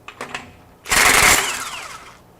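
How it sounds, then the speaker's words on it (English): A mid-torque impact wrench in auto mode loosens a fastener, a couple of faint ticks and then one loud hammering burst of about half a second that trails off as the tool shuts down. "We'll go to loosen. Once it breaks free, it shuts the tool down."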